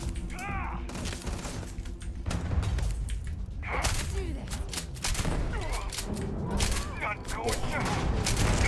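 Shotgun blasts in the space role-playing game Starfield: repeated heavy booming shots amid a dense, busy combat mix with thuds and mechanical clatter, loud and continuous throughout.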